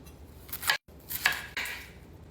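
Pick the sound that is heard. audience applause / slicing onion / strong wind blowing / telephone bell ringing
slicing onion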